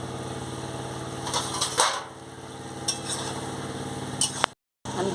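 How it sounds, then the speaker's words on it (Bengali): A lid comes off a pot of simmering pumpkin, potato and Malabar spinach stems. Brief metallic clinks and a clatter sound over a low, steady stove hum, then a short silent gap. "এবার আমি ঢাকাটা খুলে নিচ্ছি।"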